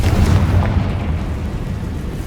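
A Confringo blasting spell bursts in Hogwarts Legacy, a loud, dense explosive rumble heavy in low boom that rolls on steadily for a couple of seconds with no voices over it.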